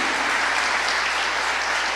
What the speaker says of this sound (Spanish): Dale ese aplauso a papá.